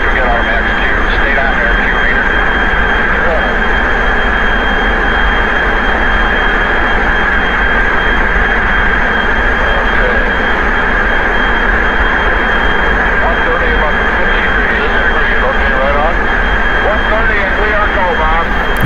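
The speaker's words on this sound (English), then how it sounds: "And then this launch sound fades out." Saturn V rocket launch sound effect, a dense, loud, unbroken roar with rumbling low end and hissing highs, steady and constant throughout.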